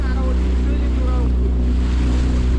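A loud, steady engine of a small wooden boat drones on the open sea, with wind and splashing waves, and a voice briefly audible under the noise.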